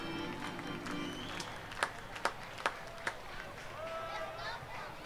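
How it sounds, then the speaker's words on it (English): Crowd at a minor-league baseball game at Truist Stadium in Winston-Salem, a distant murmur with a few sharp claps rising during a tense inning, set under a broadcaster's steady talk. "Crowd getting into it here at Truist Stadium."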